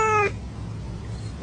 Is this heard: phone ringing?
no